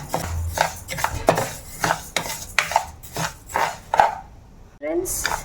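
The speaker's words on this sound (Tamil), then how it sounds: "நல்லா வறுத்து எடுத்துக்கோங்க" Rice roasting in a pan is stirred and scraped with a utensil, about seven rhythmic scraping strokes at close range, followed by a brief pause and a final sizzle-like rustle.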